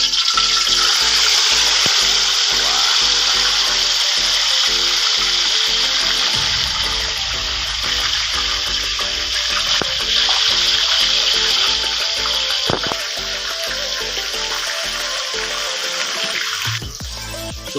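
Maya-maya fish frying in hot oil, a constant loud sizzling hiss that runs without a break, with occasional faint clinks of a utensil.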